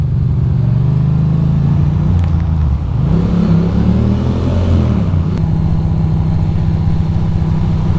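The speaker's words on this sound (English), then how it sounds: "I can hear my exhaust." Motorcycle engine and exhaust while riding on the road, a steady low rumble that swells with revving midway and then settles back to a constant drone.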